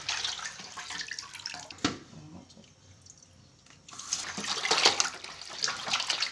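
Water splashes and pours in uneven bursts over fish being washed, pausing briefly midway before a louder, sloshing stream resumes, close by with no talking.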